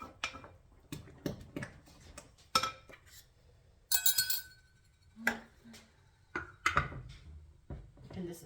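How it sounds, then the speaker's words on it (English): A yeast mixture being stirred in a glass bowl while making bulgur bread, heard as scattered clinks, taps and scrapes of a utensil against the glass with quiet gaps between them. "So you just stir all of this in."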